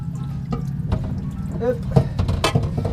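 Water running from a small tube into a drinking glass inside a camper, a short gurgling pour with slight splashes, close and moderately loud over low background rumble.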